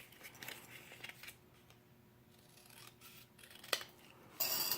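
Faint snipping and rubbing of scissors cutting through paper, a few soft cuts spread out with quiet pauses, then a brief louder rustle at the end.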